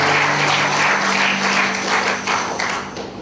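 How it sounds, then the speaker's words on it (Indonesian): Church congregation at a GBI service in Tanjung Selamat clapping together, a dense steady patter of many hands close by that fills the room for a few seconds and then begins to thin out. "Tepuk tangan buat Tuhan kita."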